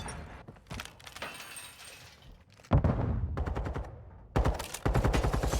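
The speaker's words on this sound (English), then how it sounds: "Lando's getting into a gunfight" Gunfight in an esports video game match: rapid bursts of automatic gunfire crackle in close, loud volleys, with sharp repeated shots and brief gaps between the bursts.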